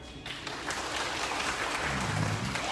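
A crowd at a Gujarat government public event claps in a sustained burst of mixed, close-and-far applause that swells slightly toward the end, with faint background murmur.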